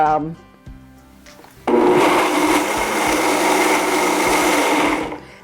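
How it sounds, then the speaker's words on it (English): A Blendtec blender kicks on with a loud, steady whirring roar after a brief low start, running continuously before winding down. "the blender is a Blendtec blender"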